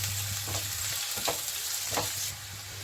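A large potato sizzles steadily in hot oil, a bright continuous crackle broken by a few scraping stirs at roughly even intervals, close and alone with no talk.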